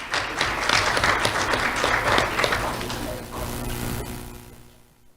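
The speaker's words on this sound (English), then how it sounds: "Let's have a round of applause for Maya Greenberg." Award ceremony audience applauding an honoree: dense, sustained clapping from a sizable crowd, loud and even for several seconds before gradually thinning and fading out.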